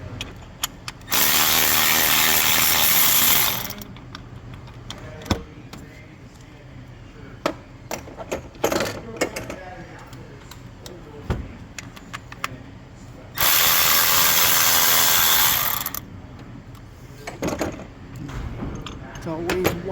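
A ratchet with 10mm and 18mm sockets loosens the bolts on a GMC Canyon canister during alternator replacement, giving two bursts of rapid clicking separated by softer clinks and handling noise, with some voice nearby.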